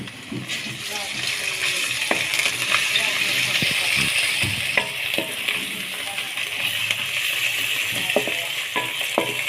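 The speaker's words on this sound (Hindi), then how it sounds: "प्याज जब थोड़ा सा ब्राउन होगा तो फिर आपने इसमें अदरक लहसुन का पेस्ट डालना है।" Onions fry in hot oil with ginger garlic paste for a dhaba-style cauliflower sabzi, giving a steady loud sizzle broken by scattered clinks and scrapes of stirring in the pan.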